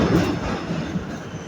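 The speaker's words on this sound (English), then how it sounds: "I'm going to depart from this train now." A New York City subway train pulls into 138th Street–Grand Concourse station in the South Bronx, a loud, close rumble of wheels on rails with a steady roar throughout.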